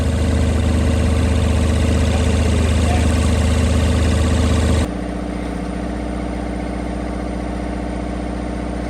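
An excavator's diesel engine runs steadily close by, loud and continuous, then drops to a quieter, lower idle about halfway through and holds there.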